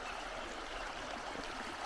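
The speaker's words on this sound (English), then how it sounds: "The Mississippi River." The Mississippi River flowing, heard as a steady, continuous broadband rush of moving water with an even level throughout and no voices.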